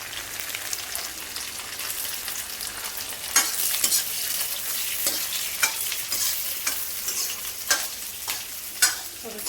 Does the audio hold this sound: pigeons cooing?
no